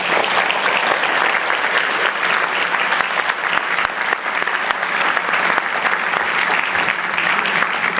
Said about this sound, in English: But I would like a big round of applause for Steve Bain.